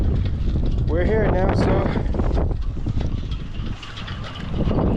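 Strong wind buffets the microphone at Lake Norman on a day with whitecaps, a loud, steady roar with someone talking over it.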